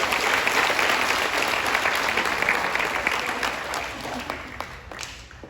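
Sustained audience applause at a 2021 moving up ceremony, a dense steady crowd of clapping hands that holds strong for several seconds before tapering slightly toward the end.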